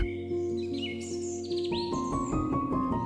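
At a wetland heritage site where migratory birds winter, several birds chirp and tweet in quick, high-pitched calls over a soft, steady background.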